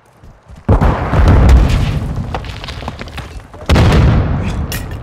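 Two heavy grenade blasts in Call of Duty, each a sudden loud boom followed by a rumbling decay, the second arriving about three seconds after the first.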